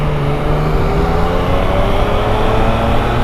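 A 2016 Yamaha FZ-09 motorcycle engine drones steadily and loudly during a ride, a continuous close hum with wind noise and no talking.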